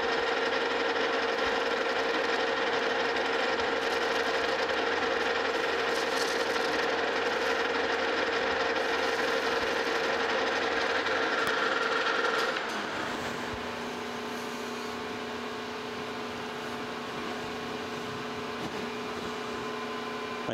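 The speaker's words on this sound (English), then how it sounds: "So come in here, let's start cutting a little bit." Steady machine hum of a cutting tool refacing a valve seat on a Frick steam engine, with a strong mechanical drone that drops to a quieter, lower hum partway through, close and continuous with no talking.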